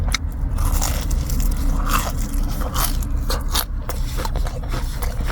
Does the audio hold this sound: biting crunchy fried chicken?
yes